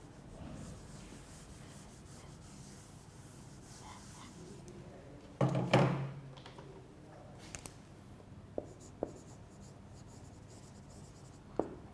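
Marker or pen scratching across a board during a language lecture, soft continuous rubbing strokes with a louder scrape midway and a few sharp taps, close and fairly quiet with no talk over it.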